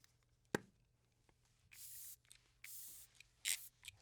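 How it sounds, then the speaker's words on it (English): Glow Recipe Watermelon Glow Ultra Fine Mist setting spray misted onto a face, heard as three soft, hissing pumps of fine spray in a quiet room, preceded by a single sharp tap. "I'm gonna take the Glow Recipe Watermelon Glow Ultra Fine Mist and just set my"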